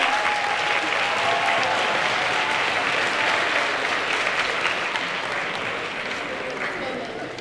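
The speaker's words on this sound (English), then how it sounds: "Could we please get a round of applause for our amazing ensemble over there?" A large audience at a high school Poetry Out Loud competition at Ramstein applauds an ensemble, steady dense clapping sustained throughout and tapering slightly at the end.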